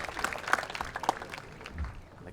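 Scattered applause from a crowd at a lawn bowls championship gold medal game, a loose patter of claps that thins out toward the end, with a faint voice underneath.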